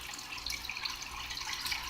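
Water poured into a reef aquarium tank, a steady close splashing trickle that runs without a break for about two seconds and carries no voices.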